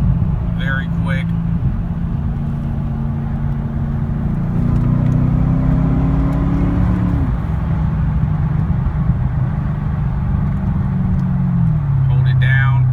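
Cadillac CTS-V wagon engine heard from inside the car as it blips and shifts down through quick gear changes, a loud steady drone whose pitch steps up briefly and settles, with a person talking over it.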